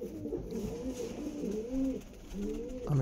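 Pigeons kept for sale coo close by, a series of low, wavering, throaty coos that repeat over a steady background hum, with no talking.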